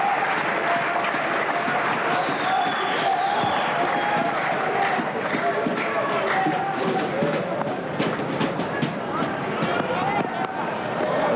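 Stadium crowd at a day-night Pakistan v England cricket match in Sharjah cheering and applauding in a loud continuous roar, with a commentator talking over it.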